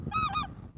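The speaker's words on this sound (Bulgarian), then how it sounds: "гъските тръгват" Specklebelly geese in a flock lifting off over fields near Rosokastro, Burgas, Bulgaria give a couple of quick, nasal honks at moderate distance, brief and clear over low outdoor rumble.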